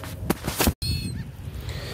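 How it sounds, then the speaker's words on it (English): Geese honk in short repeated calls on an open, empty beach, loud and near at first, then a brief dropout before softer, more distant honking and bird chatter continue alone. "Let me get to the birds."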